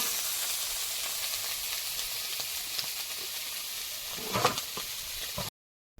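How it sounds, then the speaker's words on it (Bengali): Small mourola fish frying in hot oil in a wok, a steady close sizzle with brief crackling pops near the end before cutting to silence. "মৌরলা মাছগুলো একটু হালকা করে ভেজে নেবো"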